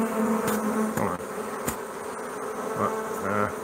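Stingless bees buzz steadily at close range around a Newfoundland hive while they scent, a continuous insect drone with a few louder passes near the microphone.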